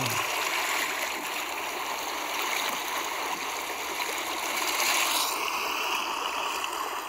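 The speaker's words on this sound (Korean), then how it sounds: "이 바닷소리가" Sea surf washing steadily in a continuous broad roar of water, close and even throughout with no voices, while a faint high electronic whine drops in pitch near the end.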